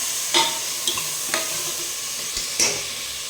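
Onions deep-frying for a homemade mutton curry hiss continuously in the pan while a ladle stirs and scrapes in four or five distinct knocks, close up, with no voices.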